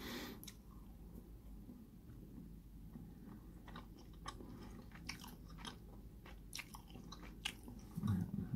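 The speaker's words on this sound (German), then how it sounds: "Entschuldigung, wenn ich schmatze." Someone chews a tough, dense cinnamon-roll-flavoured protein bar, giving soft, irregular wet chewing and biting sounds close up and quiet, with occasional crisp crunches, and no talking.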